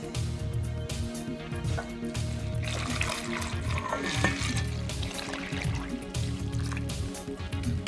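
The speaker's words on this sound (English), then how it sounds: "now we are going to add the pudding mix into our big bowl, and then add our milk to that" Milk pouring into pudding mix in a big bowl for a Halloween dirt cake: a steady, unbroken liquid stream that splashes and gurgles for several seconds over a low background hum.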